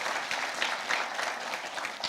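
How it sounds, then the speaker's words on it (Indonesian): Steady applause from a church congregation, continuous clapping filling the room for a couple of seconds. "Tepuk tangan lagi buat Tuhan Yesus."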